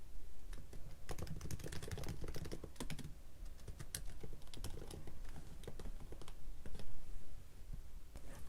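Rapid, steady typing on a computer keyboard, with dense clicking keystrokes running continuously at close range and no voices.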